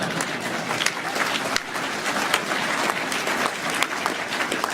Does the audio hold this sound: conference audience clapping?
yes